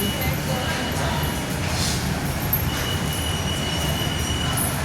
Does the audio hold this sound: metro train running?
yes